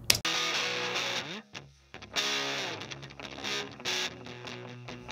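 A compressed rock electric guitar plays loud, distorted chords full of scratchy, squeaky pick-on-string noise, with brief pauses between choppy phrases and a sustained ringing tone.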